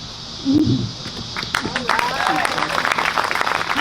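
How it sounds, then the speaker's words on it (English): An audience at the Blair Mountain Centennial commemoration breaks into applause. A brief voice comes first, then scattered claps build into steady, moderately loud clapping. "round of applause for Beth."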